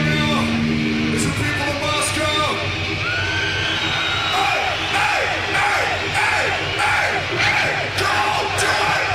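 Huge concert crowd at a show yelling back in answer to the frontman. A dense, loud roar of massed voices rises and falls in waves of shouts and whoops.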